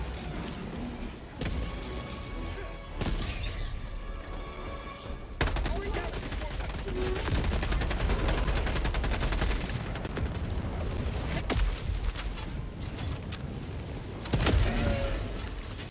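Battle noise from Helldivers 2: a thrown grenade blasts amid sustained bursts of gunfire, with loud booms and rapid rattling shots running throughout, under occasional voices.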